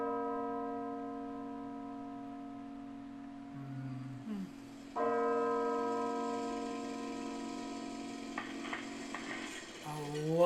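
Church bells from the Death Note anime ring with sustained, harmonic tones. A deep bell layer holds throughout, a fresh louder strike lands near the middle, and further bright clangs overlap toward the end.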